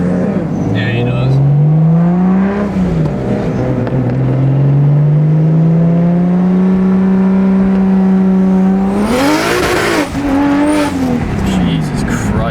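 A single-turbo BMW 335i accelerates hard on a street with a loud, rising engine drone that climbs through the gears, then a sudden roaring burst near the end before the pitch rises again.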